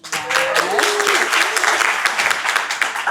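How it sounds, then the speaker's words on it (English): An audience at a tech-industry panel event gives a round of applause, a dense burst of clapping that holds steady for a few seconds, with a brief whoop and faint voices mixed in. "Let's give them a quick round of applause."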